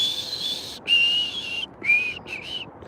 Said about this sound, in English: I'm hearing birds in the background